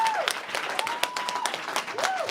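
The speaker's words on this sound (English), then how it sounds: "I think they've forgotten about holding their applause." An audience at a televised English-language political debate in Quebec applauds, dense clapping sustained throughout at moderate loudness, with a faint whistle-like tone gliding over it.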